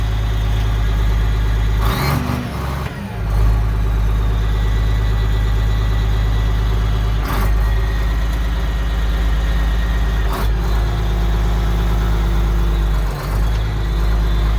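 A Case 1570 tractor engine heard from inside the closed cab, a steady, loud, low-pitched diesel drone with a few brief knocks and clunks over the constant hum.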